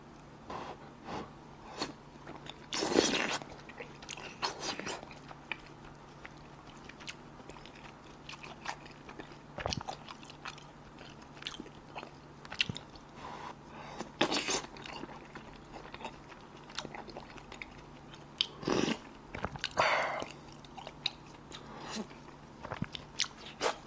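At a late-night meal, someone eats dumplings with instant udon, making close, loud bites and chewing with a few sharp crunchy bursts spread through a long stretch of quieter mouth sounds.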